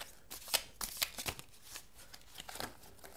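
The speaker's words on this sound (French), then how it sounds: "Alors j'essaie de remélanger comme je peux." Oracle cards being shuffled by hand during a tarot reading, a quiet run of soft riffling flicks and taps in irregular bursts, close and faint with no talking.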